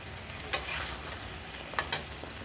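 Meat frying in an oily spice masala with added fat, stirred in a pan: a steady low sizzle with a few short scraping stirs, close and moderately loud, with no talking.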